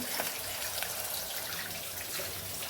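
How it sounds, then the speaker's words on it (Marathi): Tap water runs steadily into a sink while dishes are washed at home, a continuous close splashing hiss with no voices. "पाणी आलंय ना तर भांडे धुवून घ्यायचं चाललं"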